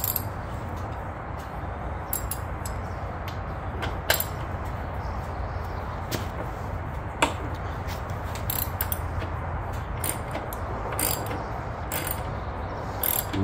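Steady mechanical clicking of a ratchet turning a 3/4 inch socket on a 1/2 inch drive, working on a 2014 Harley Davidson Ultra Limited during a lowering kit install; repeated close ticks over a low background hum, with no talk.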